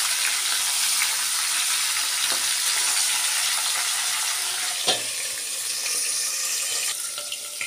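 Fish heads frying in hot oil for a Bengali muri ghonto, a continuous hissing sizzle held steady throughout, with one brief utensil knock midway.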